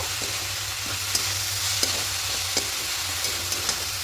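A spatula scrapes and stirs a carrot filling in a pan after a pinch of salt goes in, giving gentle sporadic ticks over a faint steady sizzle and a low background hum, with no talking.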